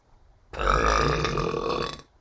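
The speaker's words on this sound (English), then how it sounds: "I got a burp in every single video" A single long, loud, deep burp lasting about a second and a half, close to the microphone.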